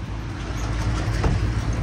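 A car driving along a road, with a steady low engine and road rumble that stays close and even throughout, no voices.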